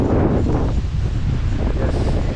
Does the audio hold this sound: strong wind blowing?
yes